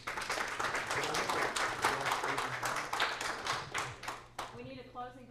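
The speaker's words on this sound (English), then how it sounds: "Can we give them a round of applause?" Audience applause at a HITEC 2011 conference panel, a dense crowd of hands clapping steadily for several seconds before tapering off, with a voice coming in at the end.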